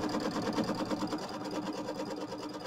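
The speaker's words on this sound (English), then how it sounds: "So we're going to tack down the fabric." A sewing machine runs steadily, stitching a tack-down line through quilt fabric with a fast, even mechanical whir that keeps a constant rhythm throughout at moderate volume.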